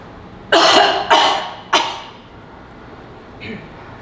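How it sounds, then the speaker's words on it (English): Three forceful coughs in quick succession to clear mucus during a lung-clearing breathing exercise, each shorter than the last, followed by a faint breath in a quiet room. "Take my breath in, do my 3 coughs."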